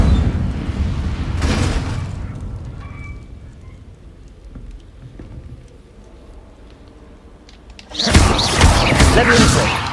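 Fire spell bursts in Hogwarts Legacy: a loud whooshing blast opens the passage, the middle settles into quieter game ambience, and another heavy roaring burst of flame erupts near the end.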